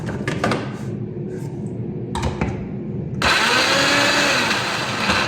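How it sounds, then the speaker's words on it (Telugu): A few short clunks and a brief whir, then a mixer grinder starts up and runs loudly and steadily to the end, grinding spice paste with a little water and turmeric. "కొంచెం నీళ్లు వేసుకొని మిక్సీ అయితే పట్టేసుకుందాం"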